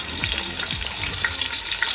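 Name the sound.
onions frying in oil in a pot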